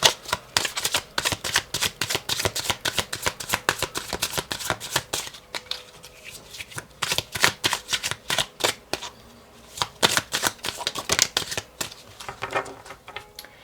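Oracle cards being shuffled by hand in quick repeated riffles and flicks, close and crisp, with a short pause midway before the rapid shuffling resumes.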